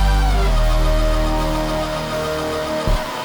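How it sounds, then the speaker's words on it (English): Deep 808 bass and guitars moving together in a siren-like pattern in a trap-style beat, loud and dense, with a gliding tone that holds and then drops out near the end. "So the 808s and all the guitars follow that pattern"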